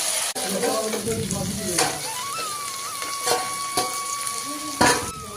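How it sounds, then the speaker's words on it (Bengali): Fish masala with green chillies and a little sugar sautéing in a pan, a steady sizzle broken by repeated scrapes and stirs of the spatula, with a faint whistling tone running through part of it. "মাছের মশলাটা কষানো হয়ে গেছে"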